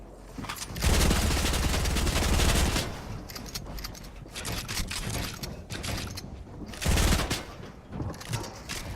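Video game firefight with bursts of automatic gunfire and RPG blasts, rapid clusters of shots in loud surges separated by quieter stretches, with no talking.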